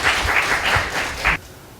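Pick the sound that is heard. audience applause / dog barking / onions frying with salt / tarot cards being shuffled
audience applause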